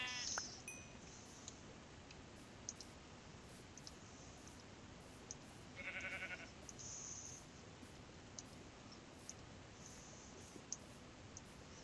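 A Minecraft sheep bleats once, faint and brief, over a quiet game scene with soft background ambience and a few scattered light clicks.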